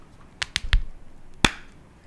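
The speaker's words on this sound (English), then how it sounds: "I gave you the knuckle clap." Knuckles knocked together in a knuckle clap, a few sharp close taps in quick succession followed by one louder crack after a short pause.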